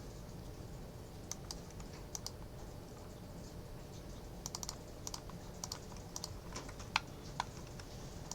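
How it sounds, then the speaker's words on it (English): Computer keyboard keys and mouse clicks while working in Maya, UV mapping a tree model. Sparse, light clicks and taps come in small irregular bursts over a faint steady room hum, close and quiet, with no talking. "I hold down shift and I double click"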